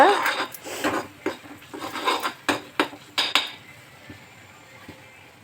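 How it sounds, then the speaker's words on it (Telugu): Steel ladle scraping and clinking against a kadai while masala for a paneer gravy curry is stirred and fried, with a run of close, busy metallic scrapes that thin out toward the end. "ఇలా మధ్య మధ్యలో ఫ్రై చేస్తూ కలపాలండి"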